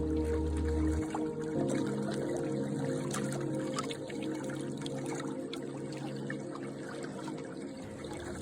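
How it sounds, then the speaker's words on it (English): A canoe paddle dips into still lake water in the Boundary Waters wilderness, giving soft splashes and gentle trickling drips over a low steady hum, quiet and close with no voices. "Listen to the soft splash as it enters, and the quiet drip as it rises again."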